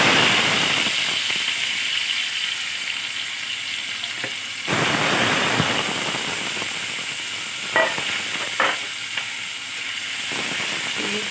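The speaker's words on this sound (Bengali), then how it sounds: "এবার এটার মধ্যে পেঁয়াজ দিয়ে চিংড়ি মাছ দিয়ে একটু সই করে রান্না করা হচ্ছে বুঝলে পেঁয়াজটা একটু ভেজে নিই" Onions and prawns frying in a pan in a home kitchen, a loud continuous sizzle and hiss with occasional stirring scrapes and clinks, no talk.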